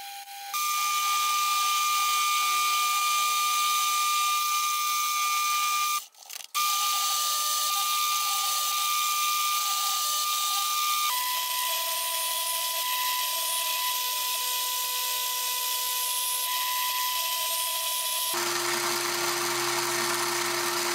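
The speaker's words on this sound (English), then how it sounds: "I turned down a ball from some 1045 rod stock" A metal lathe turns a ball from 1045 steel rod stock, giving a steady high whine with tonal shifts as the cut changes and one brief pause, running alone at moderate loudness.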